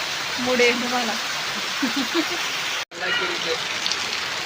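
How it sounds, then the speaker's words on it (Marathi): Heavy rain pours steadily in the open, a continuous hiss of drops on surfaces, with people talking and a brief dropout near the end. "नुसते गारठले तर इतका पाऊस चालू"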